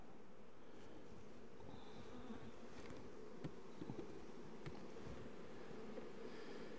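Honey bees buzz steadily around an open hive holding drone brood in worker cells. The drone is soft and continuous, with a few brief nearer passes and no voices.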